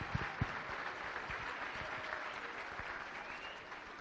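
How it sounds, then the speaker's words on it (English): An audience applauds steadily, a dense wash of clapping hands that holds at an even level throughout. "Let's give him a round of applause."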